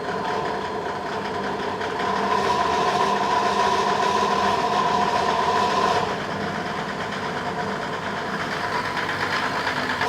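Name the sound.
diesel engine revving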